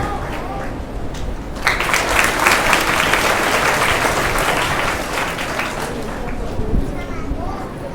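At an Independence Day prize distribution, an audience breaks into loud, dense applause that swells after a moment of talk and continues steadily, with voices audible around it.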